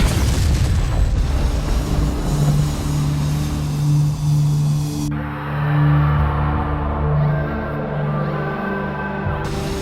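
Missile strike destroying a Korean Air Lines 747 airliner: a sustained, loud low-frequency roar and rumble with a steady droning hum, no sharp single blast, continuing throughout without voices.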